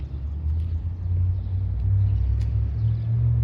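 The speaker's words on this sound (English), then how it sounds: "There's a loud truck right now as I walk up to the alley." A loud truck passes near an alley, a heavy low rumble that holds steady and swells slightly over a few seconds, close by and continuous.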